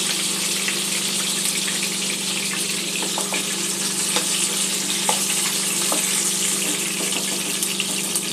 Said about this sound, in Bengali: মাছগুলো আমি এইভাবে হালকা ব্রাউন করে ভেজে নিয়েছি